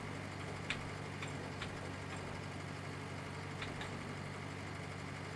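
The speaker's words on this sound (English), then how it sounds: "If you listen carefully, you can hear the poor tractor crying." A Fordson tractor engine in Farming Simulator 19 labors under heavy load, a low steady drone with faint clicks and ticks on top and no voices.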